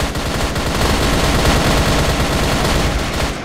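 Gunfire in the online shooter CrossFire West during a ranked match: loud, continuous automatic bursts with overlapping shots, dense and unbroken throughout, with no voices.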